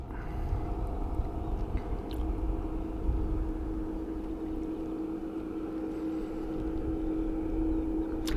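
Aircraft EI-DEG in rugby livery at Dublin Airport produces a steady, loud jet engine rumble and whine that holds at a constant level throughout.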